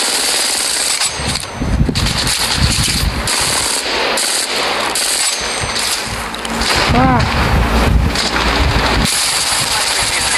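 Gunfire in the mobile battle royale shooter Apex Legends Mobile: loud, dense rapid-fire bursts and clanking weapon sounds over a continuous bright noisy bed, with voices talking throughout.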